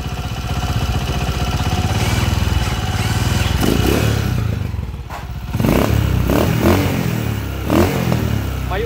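A worn motorcycle engine with a connecting rod knock idles roughly up close with a clattering, irregular knock, briefly dipping in level before revving back up.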